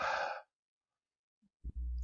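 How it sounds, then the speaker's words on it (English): A person demonstrates hyperventilation for a lab exercise: one loud, forceful breath, then a silent pause, then another heavy breath starting near the end, close and alone. "They're going to take 4 to 5 deep, rapid breaths."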